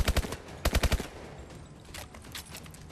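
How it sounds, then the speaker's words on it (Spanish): Gunfire in Call of Duty Advanced Warfare: two fast bursts of close, loud automatic shots, each with four or five rounds, then fainter scattered shots farther off. "¿Quién me está disparando, tío?"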